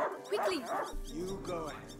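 A dog barks a few times in the video game A Plague Tale: Innocence, sharp close yaps mixed in with a character speaking over them.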